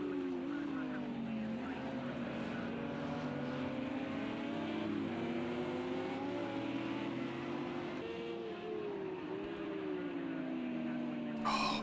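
A Porsche race car engine howls steadily on a circuit during a race, its pitch rising and falling through gear changes, loud and continuous from start to finish, with a brief sharp noise right at the end.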